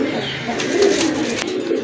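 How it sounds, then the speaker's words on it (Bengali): Female pigeon at a pigeon sale, soft cooing close by with a brief burst of wing flutter in the middle, a faint voice in the background. "ওই যে চটফট করতেছে এটা হচ্ছে মাদি কবুতর"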